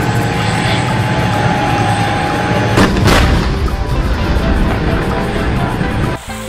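A toy steel tank plays an electronic gunfire sound effect up close. It is a loud, continuous roaring rumble with sharper cracks about halfway through, and it cuts off abruptly near the end.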